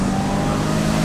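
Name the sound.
Peugeot 306 GTI-6 car accelerating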